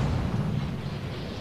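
Naval cannon fire from a French destroyer in the World of Warships video game, heard as a dense, continuous low booming rumble of gunfire and explosions that stays loud throughout the short stretch.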